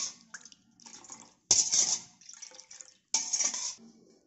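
Panipuri water with salt and spices is stirred in a bowl, with bursts of swishing liquid and clinking against the vessel in three separate close stirring spells broken by short pauses.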